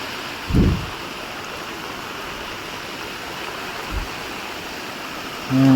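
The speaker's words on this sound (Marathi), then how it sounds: "इकडे पाणी वाहू राहिलं आहे." A forest stream flows in a steady, close, broadband wash of running water, broken by a couple of brief low knocks near the start, middle and end.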